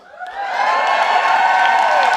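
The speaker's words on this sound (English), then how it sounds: "We're just going to cheer" A crowd cheers, whoops and applauds for First Lady Dr. Jill Biden at a White House reception celebrating Women's History Month, the roar swelling quickly and holding loud and steady.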